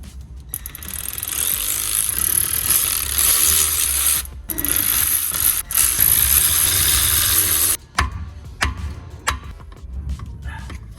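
A ratchet driving an E12 Torx bit works on seized BMW bolts, giving a loud continuous mechanical clatter with brief pauses and a couple of short breaks.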